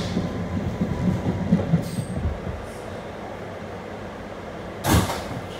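An R211 subway shuttle train rolls on the rails between Rockaway Park and Rockaway Boulevard in New York, a low rumbling clatter that fades to a quieter hum before one loud, sharp burst of rail noise near the end.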